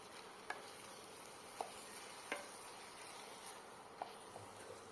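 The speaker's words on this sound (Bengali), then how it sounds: "শাকটাকে ভালোভাবে সব মশলার সাথে মিশিয়ে নেব" Boiled taro greens being stirred with spices in a hot pan: a soft, steady sizzle with a few sharp spoon scrapes and taps spaced through, fairly faint, no voices.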